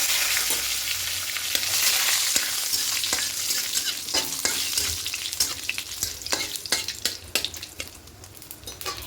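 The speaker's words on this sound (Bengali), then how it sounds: "তেলের মধ্যে হিং দেব আর গোটা জিরে দুটো শুকনো লঙ্কা দেব আর একটা তেজপাতা এরকম ছিঁড়ে দিয়ে দেবো" Whole asafoetida, cumin seeds, two dried chillies and a torn bay leaf crackle and fry in hot oil in a pan, a steady close sizzle with sharp pops and a spoon stirring, no voices.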